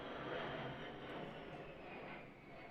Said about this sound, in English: It's flying an airplane, being hella loud, that's rude.